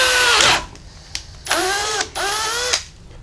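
Power drill turning a reamer to enlarge bolt holes to size on a 1978 Jeep J10 during a lift install, whining in three sustained bursts with short pauses between, close and loud.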